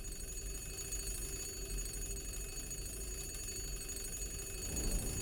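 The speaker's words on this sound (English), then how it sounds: "Oh, there was like a phone in here." A phone rings in The Room Three video game, a steady repeating electronic ring, faint and continuous under a low ambient hum with no talking.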